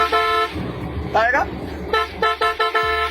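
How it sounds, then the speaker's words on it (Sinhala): A car horn blares in a series of short, rude toots, loud and close, mixed with a voice talking. "කුණු හරපෙන් හෝන් එක ගහනවා"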